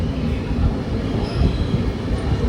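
Yesvantpur Weekly Express train pulling into Kannur railway station, a steady loud rumble of rolling wagons with faint wheel squeal, continuous and close throughout, no talking.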